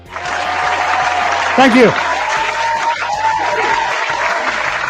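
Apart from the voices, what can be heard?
fake studio audience applause sound effect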